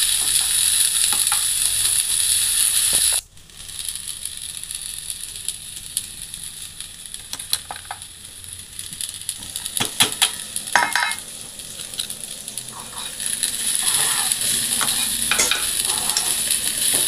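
Tomato and finely chopped green chili are stirred in a hot pan under a bright, constant sizzle. It drops briefly, then irregular scraping and clinking from the stirring spoon comes through, with no talking.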